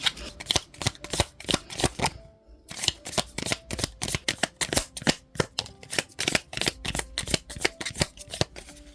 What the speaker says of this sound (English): I'm going to shuffle some tarot now.